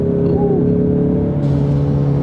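A Ford Mustang engine hums and revs from inside the car, a loud sustained drone whose pitch shifts partway as the driver downshifts.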